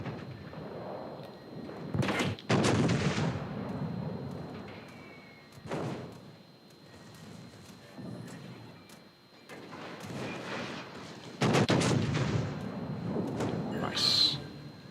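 Naval gunfire in a warship video game, broadside shots against the destroyer Clemson: several heavy booming thuds around 2, 6, and 12 seconds, loud and close, between stretches of quieter engine rumble and talk.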